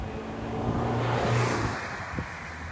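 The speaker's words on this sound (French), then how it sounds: "Attendez, il y a une voiture." A car passes close by on a street near a plant nursery, its engine and tyre noise swelling to a peak and then fading, with wind buffeting the microphone.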